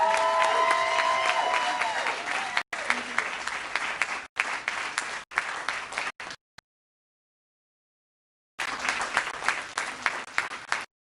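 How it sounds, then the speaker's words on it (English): An audience applauds a resident of the year award at a 2020 family medicine residency graduation. The applause is steady and close, breaks off briefly several times, falls silent for about two seconds, then resumes. "So let's give a big round of applause"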